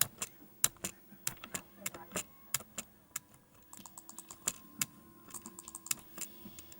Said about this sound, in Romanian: Cred că puteți auzi tastatura pe fundal.